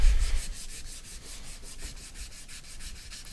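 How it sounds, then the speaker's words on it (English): A scratch in a coating is sanded by hand with 600 grit sandpaper, a close, rhythmic rubbing of quick back-and-forth strokes that gradually softens. "we're going to take 600 grit sandpaper and just sand over that spot"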